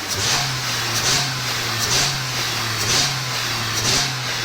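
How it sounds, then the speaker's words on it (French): Car engine with a fault-code warning light on, revved in several short stabs of the accelerator over a steady idle hum, each blip rising briefly and falling back, fairly close and loud. "On va donner quelques coups d'accélérateur et on voit la réaction"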